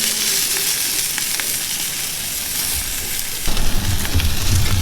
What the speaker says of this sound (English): I'm gonna go ahead and start searing off this fat.